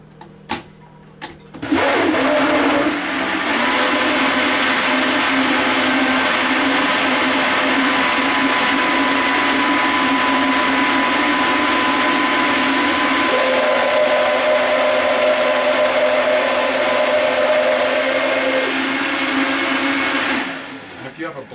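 A blender blending raw celery root, coconut and shiitake roars steadily at high speed for about twenty seconds, loud and close, its motor pitch shifting partway through before it winds down.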